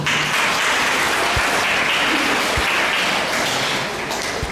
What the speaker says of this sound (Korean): 한번 큰 박수로 모셔보도록 하겠습니다